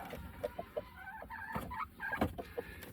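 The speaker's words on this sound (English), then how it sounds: "I'm going to try to move this birdie hen" Hen clucking close by in a henhouse, a series of short soft clucks and murmurs scattered through, with some faint handling noise.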